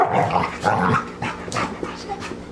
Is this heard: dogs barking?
yes